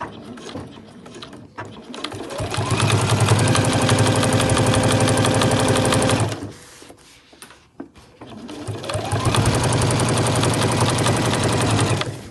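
A sewing machine stitches a backpack seam in two fast, steady mechanical runs, the needle's rapid rattle rising in speed and then stopping, with a short quiet pause of fabric handling between them.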